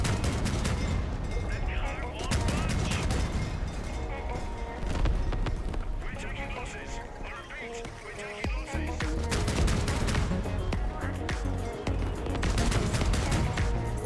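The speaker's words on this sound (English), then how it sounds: "I'm gonna shoot the bridge to prevent them from going across" Weapon fire aimed at a bridge during a Crossout vehicle combat game, a busy run of rapid shots and impacts layered over steady engine rumble, with a voice talking over much of it.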